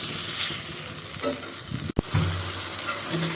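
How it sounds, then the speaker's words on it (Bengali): Spiced vegetable curry being stir-fried in a pan after a splash of water, with a steady close sizzle, scraping stirs and a brief sharp clatter midway. "এখন সময় নিয়ে একটু কষাতে হবে"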